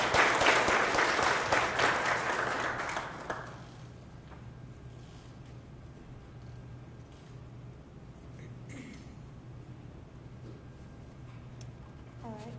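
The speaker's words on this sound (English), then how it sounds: "Let's give her a round of applause for coming up here." Audience applause at a small writers' reading night, a loud burst of many hands that lasts about three seconds and then drops off into quiet room tone with faint shuffling.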